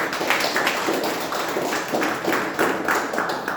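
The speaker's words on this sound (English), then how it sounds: "Please give them a big round of applause." Audience applause at a joint Toastmasters club meeting, a round of clapping in uneven bursts that swells and dips over a few seconds, moderately close.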